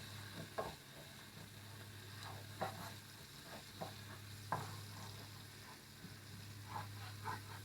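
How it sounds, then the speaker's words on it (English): A steak pan is scraped along the bottom with added liquid, giving faint scattered scrapes and clinks over a low continuous sizzle, fairly quiet and without talk, with a steady hum underneath. "Kind of scrape the bottom of the pan with that liquid there and get all that goodness out of the bottom of that pan."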